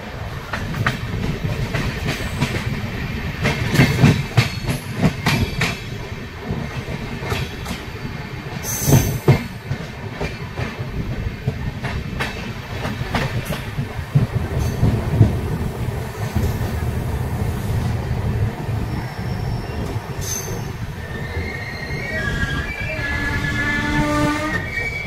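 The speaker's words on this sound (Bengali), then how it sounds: "সকাল প্রায় 8টার সময় ট্রেন ভদ্রক স্টেশন এন্টার করছে।" A Bhubaneswar–Howrah Jan Shatabdi Express rolls into Bhadrak station in the morning, heard from on board: a continuous rumbling rail roar with wheel clatter, brief screeching squeals and a faint distant horn, no talking.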